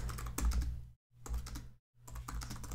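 Typing on a computer keyboard: three short bursts of quick, close key clicks separated by brief silent pauses.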